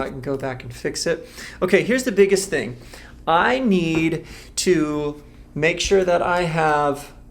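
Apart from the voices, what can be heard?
None of the usual background noises is heard.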